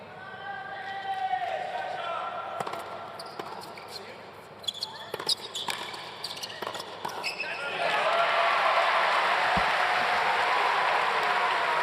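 Tennis crowd at a mixed doubles match applauding and cheering, a swell of clapping building loudly in the last few seconds after earlier ball hits and a commentator talking.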